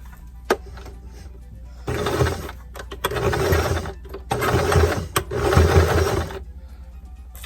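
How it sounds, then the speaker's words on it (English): A sewing machine stitches in three bursts of rapid mechanical whirring, each a second or so long, separated by short pauses with clicks as it back tacks a drawstring bag seam near the ribbon casing. "I'm just extra back tacking because it will have the stress of the ribbon on it."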